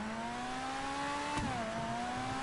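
A customized Ocelot Swinger sports car in GTA 5 holds a steady engine drone, then briefly dips in pitch and settles into a slightly lower hum, close and continuous without talk.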